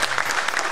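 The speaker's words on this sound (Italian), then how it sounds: "Un applauso" Audience at a music show applauding in a dense, even burst of clapping, loud and close, with no talk over it.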